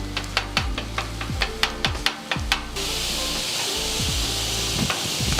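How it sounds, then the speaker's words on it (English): Metal spatula chopping Cajun turkey on a hot Blaze griddle, a quick series of sharp rhythmic clacks over sizzling, then a steady loud frying hiss once the chopping stops. "I just start chopping it up"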